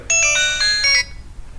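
A mobile phone plays a bright electronic ringtone melody for about a second, loud and clear, then stops, leaving quiet room noise.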